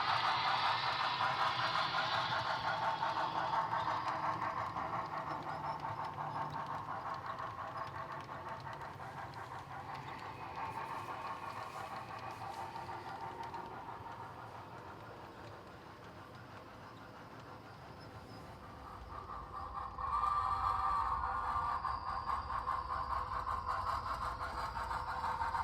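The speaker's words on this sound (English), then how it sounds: "As our freight train finally gets back onto the main after the Caltrain has left" An HO scale model freight train rumbles along a layout continuously, wheels clicking over track joints, fading a little midway then growing louder and closer near the end.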